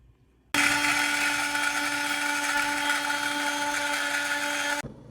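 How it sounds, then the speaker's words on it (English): An electric spice grinder pulverizes green cardamom and whole cloves in one loud, steady high-pitched whir lasting about four seconds, starting abruptly after a brief quiet and cutting off sharply, with no talking. "So I'm gonna crush them in the machine. I'm gonna grind them in the machine."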